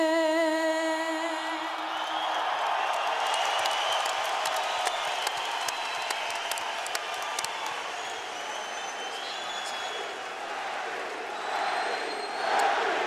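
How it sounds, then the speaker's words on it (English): A boxing arena crowd at a Pacquiao vs. Diaz fight chants and cheers, a broad roaring mass of voices with rising whoops, after a sung note fades at the start, sustained and loud throughout. "The crowd chants for their man."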